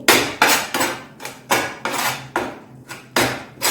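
Amla paste being stirred in a lightly warmed pan, a utensil scraping and knocking against the metal in about ten sharp, regular strokes, close and fairly loud with no talking.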